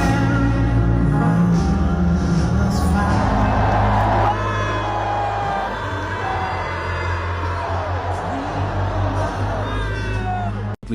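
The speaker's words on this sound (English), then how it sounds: "booing, with a mix of cheers in the background" A large Super Bowl stadium crowd roars loudly and continuously, booing Trump with scattered cheers mixed in, one loud voice standing out near the front of a dense wall of noise.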